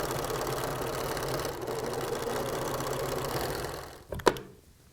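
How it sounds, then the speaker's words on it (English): A sewing machine runs steadily at speed, stitching a T-shirt collar down onto a quilt backing piece, a close, even mechanical hum that slows and stops near the end with a couple of sharp clicks. "I simply sew the collar down onto the backing piece"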